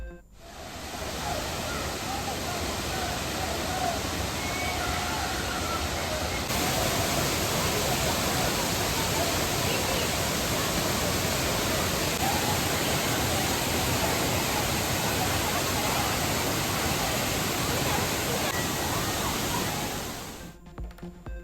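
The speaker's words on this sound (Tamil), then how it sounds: "ஆர்ப்பரித்து கொட்டும் அருவியில் உற்சாக குளியலில் ஈடுபட்ட சுற்றுலா பயணிகள்." Roaring waterfall at Thirparappu falls with tourists bathing beneath it, a dense, steady rush of falling water that fills the scene loudly and continuously, with faint voices buried in the roar.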